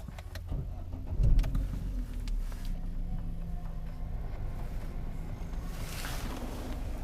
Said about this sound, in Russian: Сейчас заведем машину.